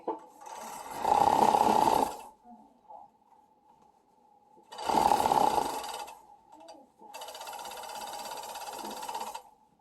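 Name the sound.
sewing machine sewing a neck hole closed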